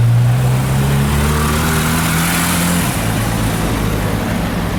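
A Porsche GT3 RS drives past on a street in Juan-les-Pins, its loud engine note rising and shifting in pitch for a few seconds as it passes close by, then fading into a steady background of traffic.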